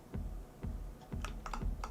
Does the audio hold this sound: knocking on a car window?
no